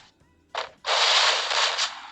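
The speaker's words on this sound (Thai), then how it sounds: "ยิงยิงปืนลูกซองยิงกับปืนกลเลยอะ" Machine gun fire in a shooting video game comes as a short burst and then a longer, sustained stream of rapid automatic shots, loud and close, with no talk over it.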